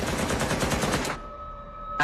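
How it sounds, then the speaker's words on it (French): A gunfire sound effect for a shooting: loud rapid automatic shots rattle without pause for about a second, then cut out sharply, leaving a quieter steady tone and a faint background hum. "Tout à coup, on a entendu des coups de feu."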